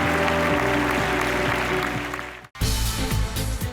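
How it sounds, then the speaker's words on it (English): A large audience at the 6th SDG Summit applauding loudly and continuously, with a brief break before the clapping picks up again. "can we have a huge round of applause, ladies and gentlemen, as we unveil the report"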